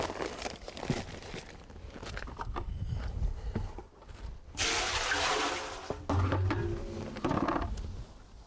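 Water is poured into ready-mix mortar, giving a rushing, splashing pour with crinkling bag and scraping noises around it, close and moderately loud.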